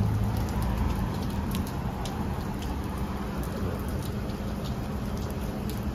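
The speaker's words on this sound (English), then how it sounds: "Oh, dude, it's raining like a motherfucker." Heavy rain falls outdoors during a trip in Texas, a dense, steady hiss and patter that stays loud and unbroken throughout.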